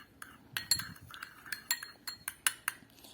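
Salt and mustard oil being mixed in a bowl make quiet, close clinks and light scrapes in an irregular rhythm, about a dozen sharp taps over a few seconds.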